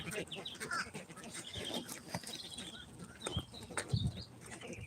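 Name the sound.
noise of farm birds sold as chickens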